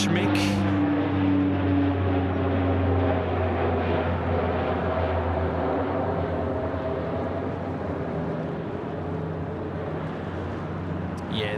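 A small Rex regional turboprop plane at Sydney Airport drones steadily with a loud, even propeller hum and engine tones that hold for the whole stretch, heard from a distance outdoors.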